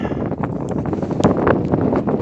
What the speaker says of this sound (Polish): Widać, że wieje.